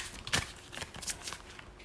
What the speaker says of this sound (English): I'm gonna do a little shuffle